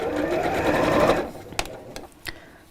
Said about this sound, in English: coming up to the curve, stitching on that crease line